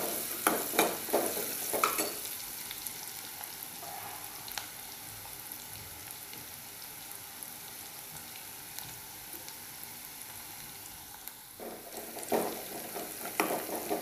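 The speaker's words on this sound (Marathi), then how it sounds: "कांदा आपण व्यवस्थित लाल असा भाजून घेणार आहोत." Onions frying in a pan until well browned, a steady close sizzle with a few stirring scrapes near the start and end, no voices.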